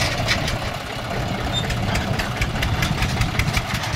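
A John Deere tractor engine idles close by in a steady, throbbing low-pitched chug with a slight knocking rhythm, continuous and unaccompanied by talk.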